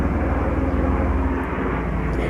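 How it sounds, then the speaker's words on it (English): A fixed-wing airplane passes overhead above a backyard vegetable garden, its engine a steady, loud, broad drone that fills the whole moment with no speech. "it's a plane"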